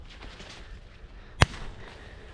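A single sharp shotgun blast at the opening of turtle dove hunting season, one loud close report standing out against quiet outdoor background.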